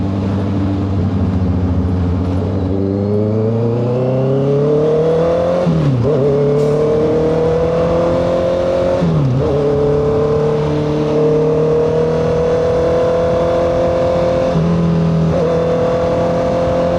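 Steady motor hum and whir heard from a 2025 Honda CBR650R moving through heavy road traffic, with engine pitch rising and falling through several gear changes and a constant near drone throughout, no voices.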